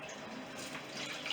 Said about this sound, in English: So I'm going to just let the water drain out.